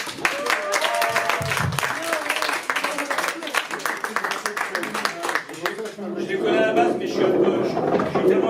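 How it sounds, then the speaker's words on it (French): Applause from an audience at a slam poetry evening in a youth and community centre in Cannes, a dense patter of many hands running steadily throughout and swelling slightly near the end, with a voice speaking over it early on. "Veuillez applaudir Noël"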